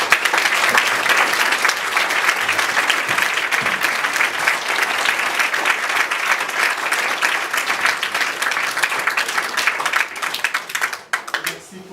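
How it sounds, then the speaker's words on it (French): An audience applauding performers at an evening show, dense sustained clapping from a full room that holds steady and then thins out toward the end. "On peut les applaudir."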